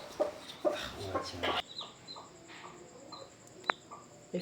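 Two-day-old chicks on a poultry farm cheep in short, scattered peeps, close and fairly faint, with a few louder chirps and some brief background noise early on.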